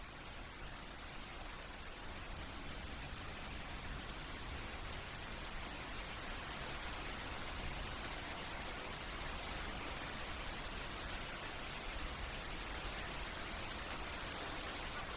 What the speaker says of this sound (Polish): pomóc Ci zasnąć przy pomocy przyjemnych dźwięków deszczu